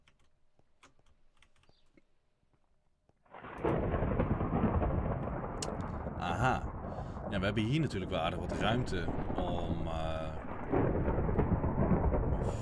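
A Minecraft thunderstorm, quiet at first, then a loud rumbling roll of thunder with heavy rain that holds steady while someone talks and keyboard clicks sound over it.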